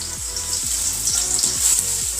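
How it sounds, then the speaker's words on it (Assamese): Chopped onions frying in oil in a pan for veg pulao sizzle continuously and close, with repeated falling squeaky tones recurring over the crackle. "পিঁয়াজখিনি ৰঙচুৱা হোৱালৈকে মই ভাজি থাকিম"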